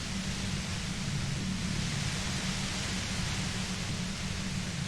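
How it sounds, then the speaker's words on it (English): Steady hissing static fills the scene in the video game Disco Elysium, a broad, even wash of noise with a low hum underneath, constant and close with no talk. "You hear through the white noise."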